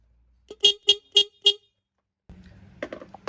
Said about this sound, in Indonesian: sekarang kita nyalakan ya klaksonnya.